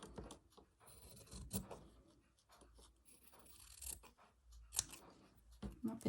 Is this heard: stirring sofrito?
no